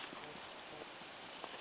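A three-year-old buckskin Tennessee Walker mare walking at a relaxed pace, hooves clip-clopping in a steady rhythm under a faint outdoor hiss.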